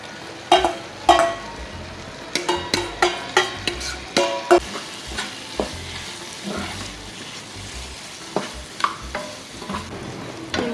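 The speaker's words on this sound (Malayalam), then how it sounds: "ഇനി നമുക്ക് നമ്മുടെ വറുത്ത് വെച്ചിട്ടുള്ള ചിക്കൻ ഇടാം." Fried chicken being stirred into a pan with garlic, rhythmic spatula knocks and scrapes repeating over a low sizzle, close and clear.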